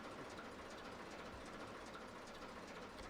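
Train engine idling in the Roblox game Streamlined, on the Dokmuiden to Helmelo route, a steady continuous rumble with broadband hiss and no distinct events, even and fairly quiet throughout.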